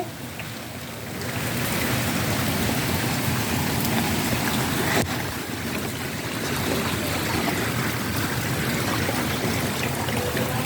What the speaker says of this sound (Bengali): বাইরে কত বৃষ্টি হচ্ছে দেখো।